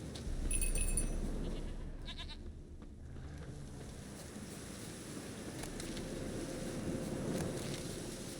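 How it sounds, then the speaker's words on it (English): A small goat bleats once, short and fairly close, inside The Witcher 3 game, over a steady washing ambience like surf or wind that runs throughout. "It's a tiny goat."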